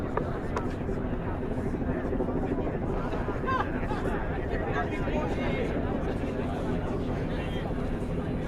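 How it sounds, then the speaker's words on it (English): Helicopter flying over a street protest in Manhattan, a low steady rotor drone sitting under crowd noise and a nearby voice talking throughout. "One drone and one helicopter today."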